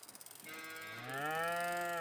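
A cow moos in the farming video game Farming Simulator 22, a single long, loud, close moo rising after a few soft clicks, with no talk.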